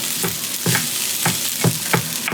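Beef fried rice made from leftover rice sizzles steadily in a pan, with regular scraping stirs about every quarter second to a half second cutting through the loud frying hiss; no talking.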